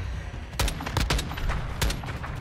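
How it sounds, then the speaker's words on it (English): Burst-fire gunshots from a semi-automatic weapon in Modern Warfare II, a 2v2 match, with a few sharp cracks spaced through the clip over steady game ambience and no talk. "I think that triple burst fire occurred in that gun"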